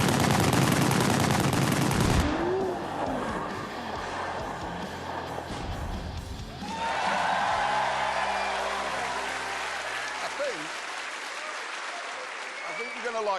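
Gunfire in The Grand Tour Game video game, a burst of sharp shots among loud engine roar, crowd-like noise and game effects, followed by more mixed car sounds.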